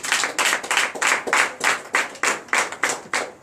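A church congregation at a night deliverance service in Benin claps in unison, about a dozen sharp, evenly spaced claps in a steady beat, fairly loud and close with no voices over them.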